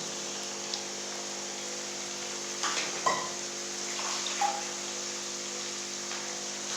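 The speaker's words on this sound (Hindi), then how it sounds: "एक कप पानी तकरीबन इसमें ऐड हो गया।" About a cup of water poured into a cooking pot of chicken with bitter gourd, tomatoes and dry spices, a soft continuous splashing trickle with a few louder gushes midway, steady and close.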